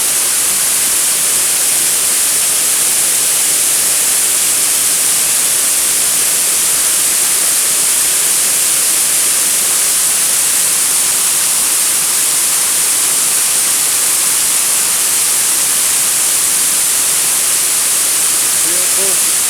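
Waterfall at the Douglas Hotel in Brodick on the Isle of Arran gives a steady, loud broadband rush that holds unchanged throughout, close and constant with no other sounds standing out.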